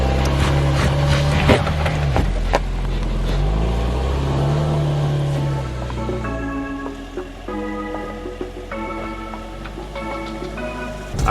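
A Jeep 4xe crawls up an off-road obstacle in 4-low on stock tires, its steady engine and drivetrain drone continuous and close, with shifting tonal whine and clunks over the rumble.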